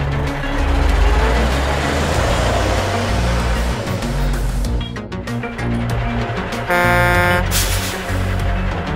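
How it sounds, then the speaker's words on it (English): A ladder truck fire engine rumbles and rushes loudly, then lets out a single short blast of its air horn near the end. "Ladder truck."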